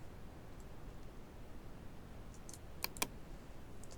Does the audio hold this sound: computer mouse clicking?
yes